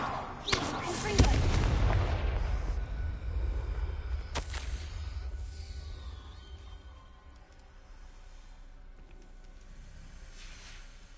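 Confringo blasting spell in Hogwarts Legacy, a sharp booming explosion near the start with a second burst a few seconds later, followed by a low rumbling tail and quiet ambience.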